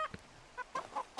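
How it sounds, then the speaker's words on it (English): Game chickens in a VR game give a few short, honking cluck-like calls, spaced out across a brief moment, moderately close and not loud, with no talk over them. "There's too many chickens."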